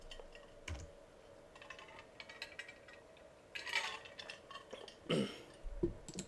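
Keys on a computer keyboard are typed at a Linux terminal in soft, close, irregular bursts of clicks with brief pauses, quiet and without talking.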